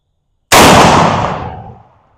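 A single loud rifle gunshot fired through an ATN X-Sight 5 LRF setup, one sharp crack from silence followed by a long fading echo rolling off over about two seconds.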